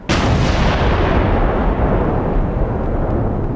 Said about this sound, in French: Cette explosion dans le Nouveau-Mexique fait partie d'un test destiné à étudier ce qui se passe lorsqu'une voiture piégée